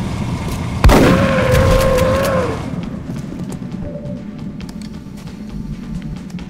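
A sharp gunshot blast rings out in the turn-based strategy game XCOM: Enemy Unknown, trailing a long reverberant tail and ringing tone, with faint softer pops and ambience afterward.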